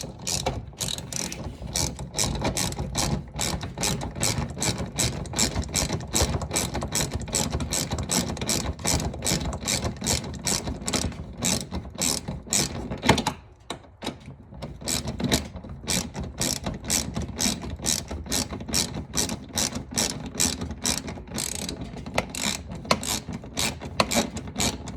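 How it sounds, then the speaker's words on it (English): Ratchet driving screws into the plastic splash guard of a Dodge Challenger, rapid continuous clicking of the pawl at close range, with a short break midway before the clicking resumes. "And put in the middle screw."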